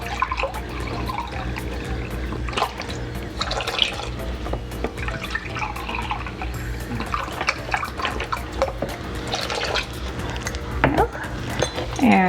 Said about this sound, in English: And 2 cups of broth.